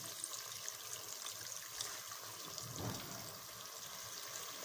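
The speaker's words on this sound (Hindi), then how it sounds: "मैं वही पानी ऐड कर रहा हूँ जिसमें हमने अपने चने उबाले थे" Chickpea boiling water poured into a cooking pot for samosa chaat chana, giving a soft, steady trickling splash that runs for several seconds, faint and alone.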